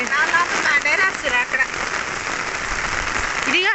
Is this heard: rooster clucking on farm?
no